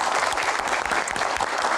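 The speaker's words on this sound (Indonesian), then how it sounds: "Tepuk tangan para panelis." An audience applauds panelists at an evening event in Indonesia, a brief burst of dense, steady clapping heard alone at close range.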